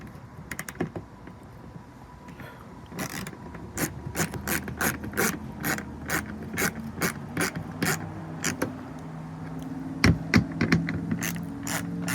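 A ratchet tool tightening a bolt on a semi truck bumper, a long series of sharp clicking strokes in an uneven rhythm, close and distinct, with faint metallic rubbing and no talk.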